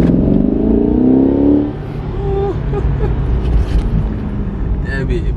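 A truck engine revs hard at close range, a loud rising roar that cuts off sharply and drops to a rumbling idle with some clatter, during a senior prom send-off.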